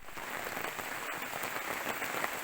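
Heavy rain pours down steadily in a mountain forest, a dense continuous hiss of drops beating on surfaces close by, with no voices.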